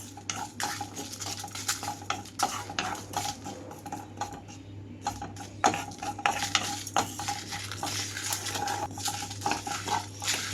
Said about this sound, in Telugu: ఇవన్నీ కొంచెం దోరగా కొద్దిగా కలర్ మారే వరకు నువ్వులు వేయించుకోవాలి.